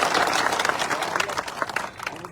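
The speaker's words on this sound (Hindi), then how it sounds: "उनके लिए तो ताली बजाई जा सकती है" An audience breaks into applause at a statue unveiling ceremony in Raisen, a brisk wash of clapping hands that thins toward the end.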